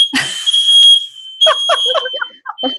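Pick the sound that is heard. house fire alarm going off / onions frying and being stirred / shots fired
house fire alarm going off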